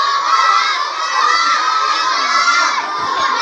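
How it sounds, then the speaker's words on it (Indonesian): A crowd of children at a school Quran completion ceremony shouts together loudly and continuously, a sustained, close chorus of voices with slight swells. "Teriak semua."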